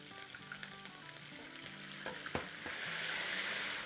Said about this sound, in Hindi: बस 30-40 सेकंड फ्राई करेंगे इसको, अदरक लहसुन को।